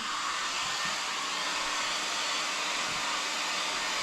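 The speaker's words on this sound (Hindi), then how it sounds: "इतनी ठंडी है कि मेरे को चिपकाने के पहले हेयर ड्रायर से तो गर्म करना है" Hair dryer blowing steadily to warm an item before gluing it in freezing winter weather in Manali, a continuous close broadband whoosh with no talk.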